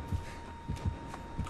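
Killer's heartbeat from the video game Dead by Daylight: slow, low, throbbing double thumps repeating steadily at moderate volume over a faint background hum, with no talk.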